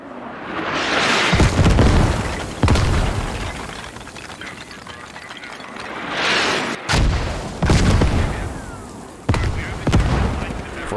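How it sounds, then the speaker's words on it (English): A mortar barrage in the military shooter Squad brings a series of heavy booming explosions landing one after another, loud and close with rolling rumbles between the blasts. "a second mortar barrage"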